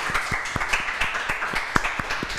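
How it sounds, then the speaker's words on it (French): Sparse, fairly close hand claps fall in a loose rhythm, with a few audience members clapping briefly. "on te raccompagne, bien entendu, sous un tonnerre d'applaudissements encore une fois"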